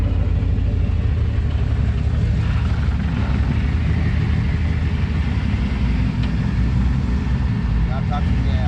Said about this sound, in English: This is the low end difference with that throttle body. At a 900 RPM idle.